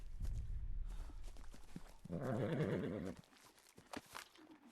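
A horse in ARK on the Valguero map lets out one loud, shaking whinny lasting about a second, surrounded by scattered hoof clops and footsteps.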